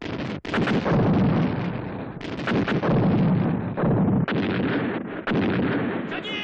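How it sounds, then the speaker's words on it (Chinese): Artillery fire in a war-movie battle scene: repeated heavy booming blasts and rumbling bursts, close and loud, with sharp impacts separated by brief gaps over continuous battle noise. "炮兵给我轰！"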